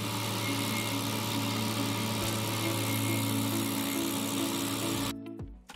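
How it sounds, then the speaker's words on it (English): A Clue SG1SW tree stump grinder's engine runs steadily with a constant droning hum and vibration, then cuts off abruptly near the end. "The Clue SG1SW tree stump grinder can effectively grind tree stumps of different"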